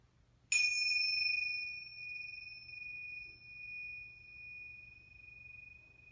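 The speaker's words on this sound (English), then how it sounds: "as I ring the bells, then follow the sound off into the distance." A single bell struck at the opening of a chair yoga class, a bright clear ring that sustains and slowly fades with a gentle wavering shimmer, alone in a quiet room.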